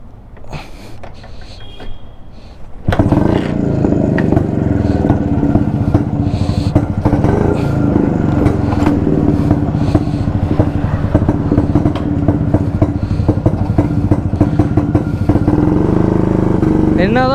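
A vintage Jawa Yezdi D250 two-stroke motorcycle fires up after a few quiet seconds of clatter, then settles into a loud, close, rapid popping idle that runs steadily to the end, with someone talking over it.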